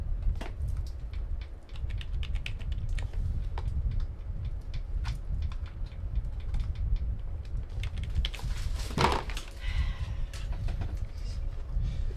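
A computer keyboard being tested with steady, rapid key clicks throughout, close and fairly loud over a low background hum, with a brief louder clatter near the end.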